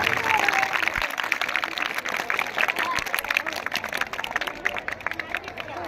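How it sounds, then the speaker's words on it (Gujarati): Sustained applause and clapping from a school audience at a January 26 Republic Day function at a primary school in Jetpur, steady and dense throughout, with crowd murmur mixed in. "તાળીઓના ગણગણાટથી વધાવી લઈશું."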